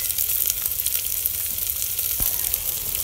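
Onions and cumin fry in hot oil with a loud, dense, continuous sizzle and crackle, plus one sharp tap partway through.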